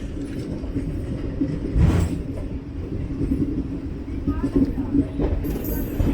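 The 12084 Jan Shatabdi Express, running from Coimbatore to Mayiladuthurai, rolls near the Trichy yard. A dense, steady low rumble of wheels and carriage fills the whole stretch, with faint clatter on top.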